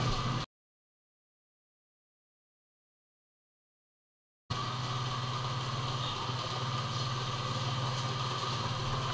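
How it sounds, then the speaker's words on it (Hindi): A motorcycle engine idles steadily just after being started, a continuous mid-level rumble running on its own after a stretch of silence. "गाइस अपना बाइक तो स्टार्ट हो गई है"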